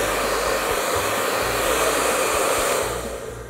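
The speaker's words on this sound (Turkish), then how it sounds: "bunu bir güzel saç kurutma makinesiyle ısıtın" A hair dryer blowing hot air onto tape stuck on window glass: a steady, loud, close whoosh with a low motor hum, running alone and fading slightly at the end.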